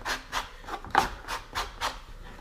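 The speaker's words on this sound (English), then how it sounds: "So we're going to take our sanding block, and I mean very light." Light strokes of a sanding block across a laser-cut part, taking off black scorch: about seven short, soft rasping passes in a steady rhythm, close up and alone.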